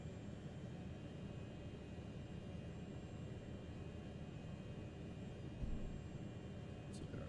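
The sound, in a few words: BN2 Trislander aircraft engine at low idle, flight simulator video game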